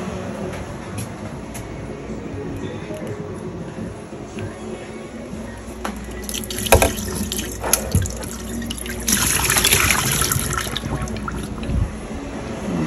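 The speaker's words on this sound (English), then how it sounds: "I'm gonna pour the water out." Water is poured out of a canning pot used for pressure canning salmon and chicken, a running, splashing stream over ongoing sink-like trickling. It swells louder in the second half, with a few sharp clinks and faint talk nearby.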